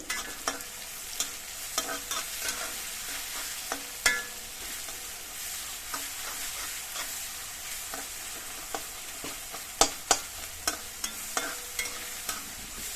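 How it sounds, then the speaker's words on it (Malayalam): Onions and green chillies sautéing in a pan for an okra stir-fry, a soft steady sizzle broken by repeated sharp scrapes and taps of a spatula stirring, quiet and close, without talk. "പച്ചമുളകും കൂടി ചേർത്തിട്ട് ഇതും കൂടെ എല്ലാം കൂടെ ചേർത്തിട്ട് വഴറ്റിയെടുക്കാം"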